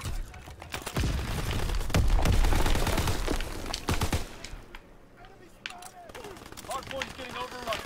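Rapid bursts of gunfire in the World War II shooter Call of Duty WW2, loud, dense volleys with booming impacts early, then thinning out as players talk over the later shots.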